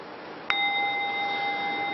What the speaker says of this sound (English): I've been ringing this chime about every 12 seconds.